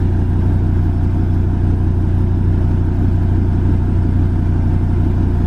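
A truck engine, just jump-started after a dead battery, runs at a steady idle with a dense low rumble and even mechanical churn, close and constant throughout with no talk.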